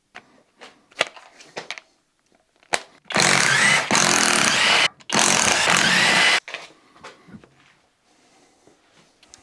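On a Citroën Visa GTI, a power tool removes the wheel nuts in two loud, close bursts of rattling hammering about a second and a half each, separated by a short pause, with scattered clanks and handling noises around them.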